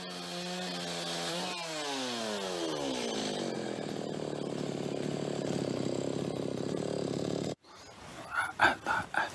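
Chainsaw carving a wooden sculpture, its engine revving up then holding a steady loud whine for several seconds before cutting off, followed by a few rough knocks and scrapes.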